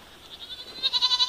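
Pygora goats, a pygmy and angora fibre cross, bleating in a rapid wavering series that grows louder and more insistent toward the end, close by with no talk over it.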